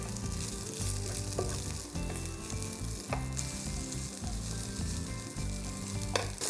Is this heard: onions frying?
yes